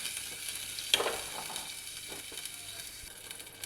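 Steady sizzling and soft bubbling from a fish curry with tamarind water boiling in a pan on the stove, fairly quiet and continuous, with a small clatter near the start and no voices.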